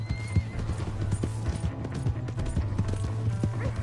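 Horse hooves gallop in Red Dead Redemption 2, a rapid rhythmic clip-clop pounding along at close range over steady low rumble, with occasional snorting and faint voices mixed in.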